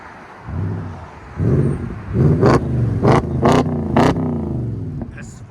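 Close-up, loud revving from a 2012 Audi S5 4.2L V8 with a muffler delete: a steady idle rises into a burst, then four quick throttle blips follow in a row. Between revs the exhaust crackles and burbles.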